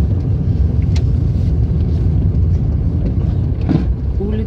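A car drives through the streets of Ekaterinburg's Akademichesky district, its steady low road and engine rumble heard from inside the cabin, continuous and fairly loud throughout.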